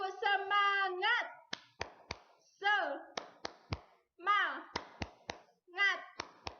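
Children chant a rhythmic 'tepuk semangat' in a classroom, their voices alternating with sharp, evenly spaced hand claps in groups, close and clear.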